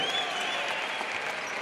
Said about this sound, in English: A nice round of applause for big number 35